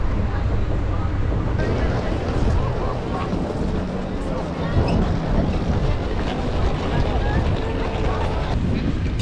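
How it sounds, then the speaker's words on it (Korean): Wind and rain at Disneyland Paris on a stormy day, heard as a steady loud roar of gusting wind buffeting the microphone with broadband rain noise throughout. "그런데 도착하자마자 비바람이 불고 있어요."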